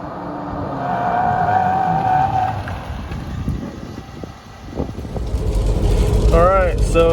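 An 80 Series Land Cruiser on worn Federal Couragia mud tires, its engine and tire roar rising and falling steadily with loud wind buffeting, close and continuous throughout.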